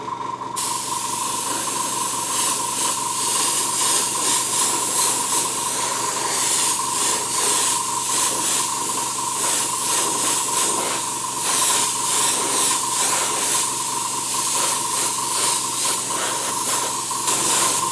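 Steady, continuous hiss of spray paint applied in a light coat over a tiger stripe stencil on a scale model, close and unbroken for the whole stretch with no talk.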